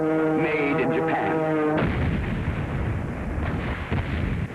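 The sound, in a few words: bombing explosions at Pearl Harbor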